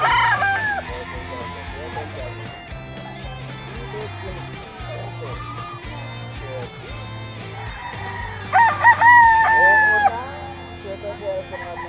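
Kelso gamefowl rooster crowing amid the busy clutter of a gamefowl market, its calls rising over a steady low background hum with people talking nearby.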